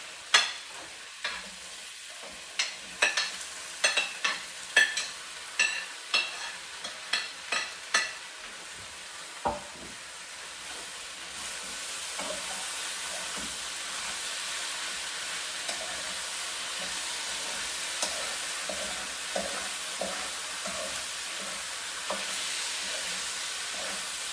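Potato, bell pepper and tomato stir fry cooking in a pan: a steady hiss of sizzling with a run of sharp clinks and scrapes from stirring early on, then a smoother continuous fry with no voices.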